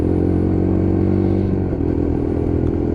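An LXR Euro 5 motorcycle on a test ride pulls through the gears, its engine droning loud and steady close by, with rushing wind and road noise throughout.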